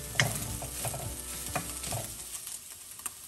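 Pad thai ingredients with a pinch of salt sizzle in a pan as they are stirred, a steady frying hiss with several scraping and clinking strokes of the utensil, close up and without voices.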